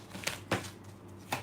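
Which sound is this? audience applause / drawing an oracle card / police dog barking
drawing an oracle card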